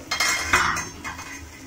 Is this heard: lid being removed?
yes